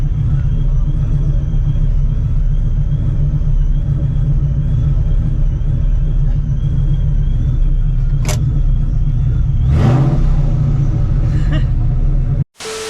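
A procharged 2V Mustang GT with exhaust cutouts open rumbles loudly up close, then rises into a rev near the end before cutting off sharply; a voice is briefly heard.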